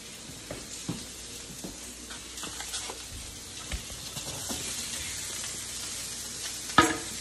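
Pork chop and onions frying in a pan, quiet crackling sizzle with occasional stirring scrapes and a louder clatter near the end, no talking.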